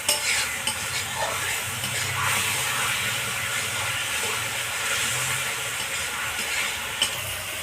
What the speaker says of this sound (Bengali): মশলাটাকে আমি অল্প করে কষিয়ে নিই।